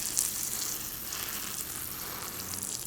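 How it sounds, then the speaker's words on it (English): Water pours onto the center of a bonsai tree's soil, a soft continuous fizzing hiss close at hand that stays steady and unbroken, with no voices. "So I'm going to water on the center and looking at what would be the problem."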